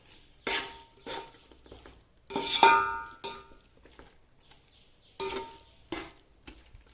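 A spoon scrapes and clanks against a metal pot while biryani masala is stirred for mutton biryani, in several separate bursts with quiet pauses between the strokes.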